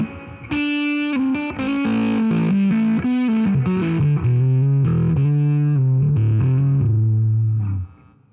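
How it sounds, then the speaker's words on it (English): Electric guitar played through a Tascam 424 MKII preamp in its low-impedance setting, giving a fuzzy, pedal-like distortion; a continuous, loud riff of sustained notes and chords with no talking. "it sounds like in that low impedance setting, it sounds like a fuzz pedal"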